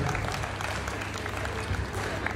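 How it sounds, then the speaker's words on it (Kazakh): Guests applauding at a celebration for a friend turning forty, a steady smattering of many hands clapping at moderate distance, sustained without clear breaks. "40-қа толған жан досқа бір шапалақ соғайық"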